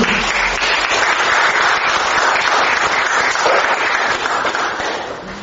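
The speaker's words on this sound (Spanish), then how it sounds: "un aplauso a los rabinos" A congregation applauds the rabbis during a talk on confirmation, a dense, loud, continuous burst of clapping filling the room and tapering slightly at the end.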